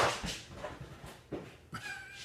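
Cats meow repeatedly, several short, fairly close cries spaced unevenly, with light room noise between them.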